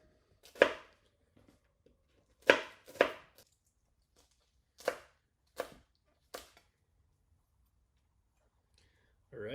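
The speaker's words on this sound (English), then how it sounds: "then turn them over and just cut through them as if they were little cabbages on the flat side, just shredding them almost like you were going to shred them for a coleslaw" Knife shredding halved Brussels sprouts on a cutting board, like cabbage for coleslaw: sharp, crisp chopping thuds come in small irregular clusters separated by quiet gaps, close and clear with no talk over them.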